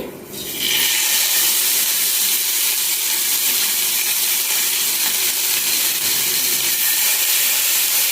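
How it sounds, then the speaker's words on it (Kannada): Fish laid into hot oil on a tawa bursts into a loud, close, continuous sizzle within the first second. The hiss holds steady and intense throughout, with no talking. "ಈಗ ಬಿಸಿ ಆದ ಮೇಲೆ ಮೀನು ಹಾಕಿಕೊಳ್ಳಿ"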